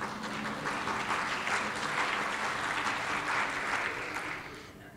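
An audience at a gardening presentation applauds warmly for several seconds, a steady wash of clapping that fades out at the end.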